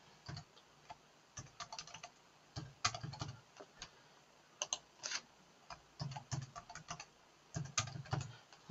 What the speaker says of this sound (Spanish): vamos a ponerle una contraseña